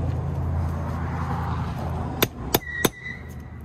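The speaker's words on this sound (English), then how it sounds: "Maybe give her a couple wallops with a hammer." Three sharp metallic hammer blows on a part of a Toyota Corolla AE86 or TE72 being prepared for a drift event, spaced roughly a third of a second apart, loud and close over a steady garage rumble.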